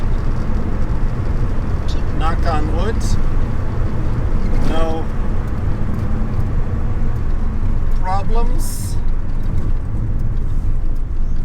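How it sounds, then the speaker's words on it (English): A Datsun 280Z on a casual cruise, its engine and road rumble steady and loud throughout, with someone talking over it from inside the car. "On this here car that I'm currently driving."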